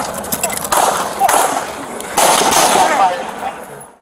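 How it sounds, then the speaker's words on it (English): Sharp bangs of a woman firing a gun in an open city park, two or three loud cracking reports at irregular intervals with echo, heard outdoors with faint background voices. "She's shooting randomly in the park."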